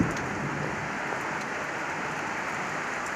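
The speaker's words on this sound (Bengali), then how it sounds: "দেখুন মোবাইলের ফ্ল্যাশটা অন করেছি বৃষ্টি পড়ছে" Heavy rain pours down steadily during a storm, with a close, dense, unbroken hiss and no voices.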